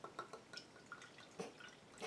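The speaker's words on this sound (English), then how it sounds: "I've got a glamorous assistant who's going to pour me a glass." Rosé wine from a plastic bottle of cheap supermarket fizz trickles and drips into a crystal glass, a few light splashes and drips close by and faint, with no talk over them.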